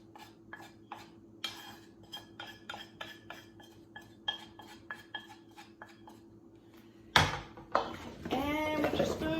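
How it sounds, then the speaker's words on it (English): Metal spoon stirring cut potatoes with onion powder and garlic seasoning in a glass canning jar, a run of quick, bright clinks and scrapes, followed by a louder burst of handling noise and a voice at the end. "And with your spoon, just kind of mix it all up."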